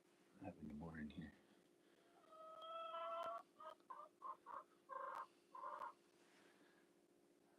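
Chickens cluck in a series of short bursts at moderate distance, after a brief stretch of low, murmured talk at the start.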